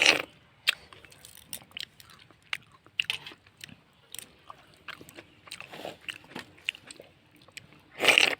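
Raw radish being chewed and bitten close to the mouth, a series of crisp wet crunches at an irregular pace with sharper bites at the start and end, no talk.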